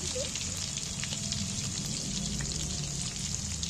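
Salted potato pieces frying in oil for a chicken curry, a dense continuous sizzle that stays even and close throughout, with no voices.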